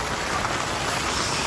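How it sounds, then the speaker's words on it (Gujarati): Heavy monsoon rain pours down in a dense, steady wash of noise with no breaks, close and loud throughout. "જોર બરાત વરસાદ છે"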